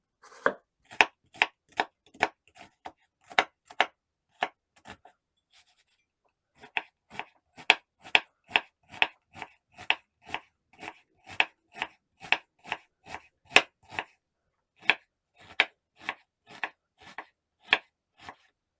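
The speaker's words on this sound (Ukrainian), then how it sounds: "Цибулю теж буду нарізати, але нарізаю кубиками" A knife dices an onion on a cutting board, sharp rhythmic taps in quick runs with a brief pause, close and clear, no talking.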